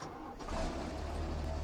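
A tractor engine in a farming video game turns over and catches, then settles into a low, steady rumbling idle, close and fairly quiet, with no voices.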